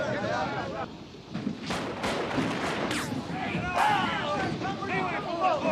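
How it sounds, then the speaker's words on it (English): Cannon artillery fire from warships in a film, heard as several booming reports spread across a noisy battle soundtrack, with distant shouting in the mix. "They can't be firing now that the Congress has surrendered."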